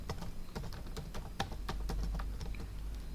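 A password is typed on a computer keyboard at an Arch Linux terminal, a quick irregular run of sharp, close key clicks against a low background hum.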